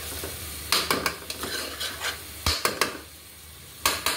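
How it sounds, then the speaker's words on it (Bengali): Prawns stir-fried in a pan with garlic, ginger, onion and soy sauce give a steady sizzle, broken by sharp scraping and clacking strokes of a utensil against the pan in irregular bursts, close and fairly loud. "তাই আমি ভালো করে চিংড়িটি করে নিচ্ছি সব কিছু"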